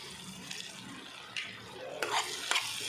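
Soybean masala curry being stirred in a pan: a soft, steady cooking bed broken by a few brief scraping strokes that grow a little louder toward the end, with no talk.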